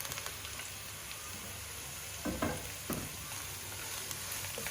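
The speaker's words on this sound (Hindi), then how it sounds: "अब हम इसमें ये सारी सब्जियां डाल देंगे" Chopped vegetables stir-frying in a pan over high flame for Hakka noodles, a steady loud sizzle with a few scraping stirs partway through, no voices.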